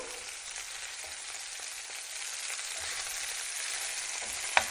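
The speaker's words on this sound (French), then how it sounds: "On garde un feu tonique. Faut bien saisir la viande." Beef meatballs for an Algerian-style dish sear over high heat, giving a dense, steady close-up sizzle that holds evenly throughout, with one sharp click near the end.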